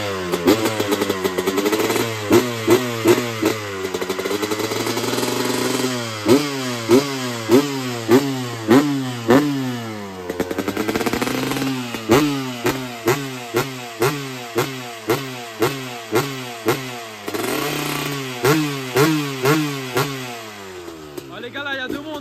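A motorcycle engine, started without the choke, revs hard again and again close by, with sharp throttle blips and brief drops between bursts across the whole stretch.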